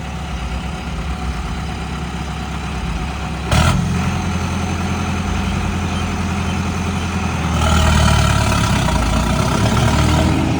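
A jhota tractor engine runs near a pickle machine, with a steady low idle that rises briefly around three and a half seconds and grows louder again near the end, with no talk over it.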